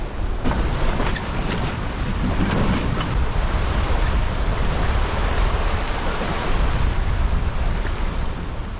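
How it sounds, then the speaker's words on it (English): Strong wind roars across the microphone while waves rush and slap against a sailboat flying a large gennaker off an open Icelandic coastline, a loud continuous wash of sea and gusts. "If winds and waves suddenly increases like here, entering an open coastline"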